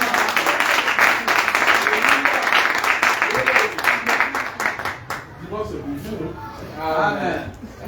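A church congregation applauding together in loud, dense rhythmic clapping that thins out after a few seconds, with voices speaking and calling out under and after it.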